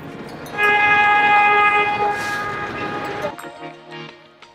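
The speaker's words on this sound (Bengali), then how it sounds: "টয় ট্রেন যেটা দেখতে পাচ্ছি আমরা" A toy train ride at Deul Park, a picnic spot in Birbhum, West Bengal, rumbles past with a sustained, loud whistle or horn tone that holds for several seconds and then cuts off, leaving quieter park noise.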